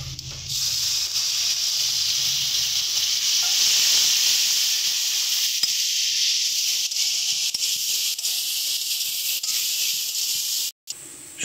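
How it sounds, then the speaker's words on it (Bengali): Spice masala sizzles and hisses steadily in a hot pan, a loud continuous frying hiss that gradually softens, with a brief sharp clatter near the end. "সামান্য সামান্য করে একটু জল দিয়ে আমরা মশলাটাকে কষিয়ে নেব।"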